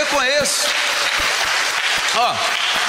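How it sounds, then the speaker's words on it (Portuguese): Worshippers at a church service break into loud, sustained applause for Jesus, with a voice speaking and calling out over the clapping at the start and again near the end. "dar salva de palmas para o Senhor Jesus"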